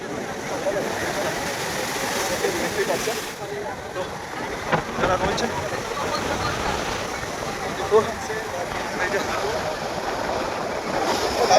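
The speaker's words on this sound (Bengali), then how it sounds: "আজকে এমন উত্তাল সমুদ্র" Rough sea surf roars steadily, broadband and wind-buffeted, with a crowd murmuring faintly beneath the continuous crash of waves.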